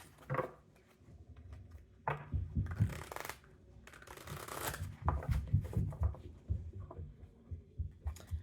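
Tarot cards shuffled in several quick riffling bursts, close by, with soft taps and rustles between them.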